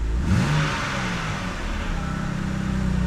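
A 2009 BMW 128i with the N52 engine revs up after new spark plugs and ignition coils, rising briefly then settling into a steady, smooth hum at close range, no speech.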